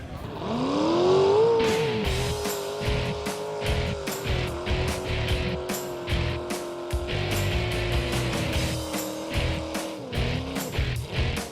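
A small truck on a short racing run revs hard, its engine rising then holding a loud, steady rasping drone, with repeated sharp bursts and clatter from the run, before easing off near the end.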